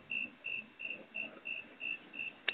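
Crickets chirp in a steady, evenly spaced pulse of about eight trills, clear and close against quiet background, with no talk.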